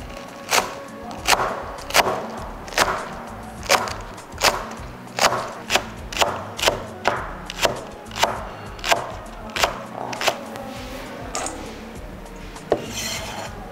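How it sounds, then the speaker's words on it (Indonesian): Knife slicing spring onions on a wooden board, a steady rhythm of about twenty sharp chops spaced under a second apart, close and crisp, slowing toward the end. "Ini kita slice aja."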